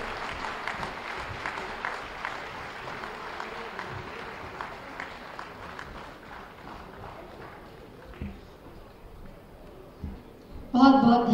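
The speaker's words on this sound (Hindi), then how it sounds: "एक बार जोरदार तालियां इन सभी खिलाड़ियों के लिए।" Applause for players at the opening ceremony of Uttar Pradesh Day, a broad crowd clapping that fades over several seconds, with louder handling noise near the end.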